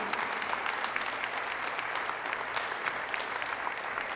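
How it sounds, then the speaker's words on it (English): Steady applause from an audience of district leaders and parents at a school district's State of the District event, dense and even throughout with no talk over it. "Give them a round of applause."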